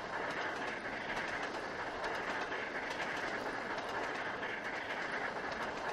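Steady, continuous rumble of a train running on rails along the Settle to Carlisle route in the Trainz railway simulator, with faint rhythmic clicking of wheels throughout and no voices.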